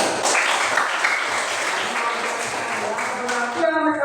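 Steady clapping from a classroom group, filling the whole stretch at a moderate, even level with voices mixed in underneath.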